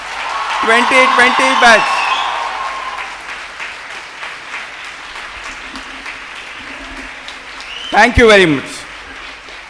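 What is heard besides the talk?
applause for the graduating MBBS batch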